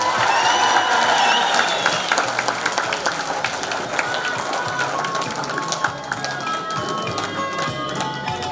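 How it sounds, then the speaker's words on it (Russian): Loud, dense applause from a university hall audience at a Turkmenistan Neutrality Day celebration, steady crowd clapping filling the room with some voices and music tones mixed in. "Если понравилось, давайте еще раз аплодируем."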